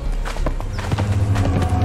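Rhythmic hoofbeats of a horse being ridden in the video game Conan Exiles, a steady clip-clop gait at close range over a low, continuous rumble.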